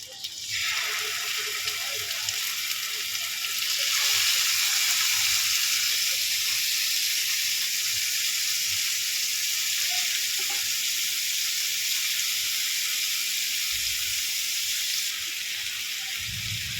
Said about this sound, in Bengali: বন্ধুরা যখন আমি এই মাংসটা ফ্রাই করছি